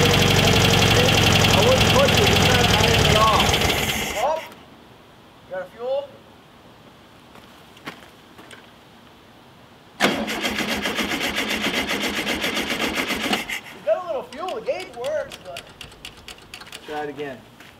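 An old, long-forgotten VW Beetle engine cranks and fires for the first time in years, with loud bursts of running broken by quieter gaps where people talk nearby.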